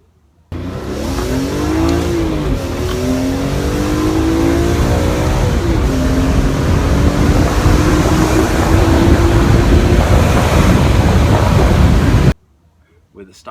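Two BMWs, an E46 M3 and an E60 M5, accelerate hard through third gear from about 3,000 rpm, the engine note climbing steadily and loudly for roughly twelve seconds before cutting off abruptly.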